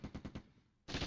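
Machine gun fire from the wargame Flashpoint Campaigns: Red Storm: four quick, loud bursts in a steady rhythm, a short lull, then one sustained burst of rapid automatic fire.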